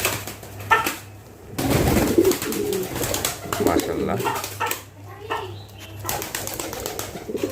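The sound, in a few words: Modena pigeons cooing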